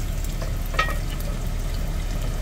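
Eggs fry hard over a high flame in a cheap cast iron pan on a stove in a semi truck cab, a steady close crackling sizzle with a brief scrape partway through.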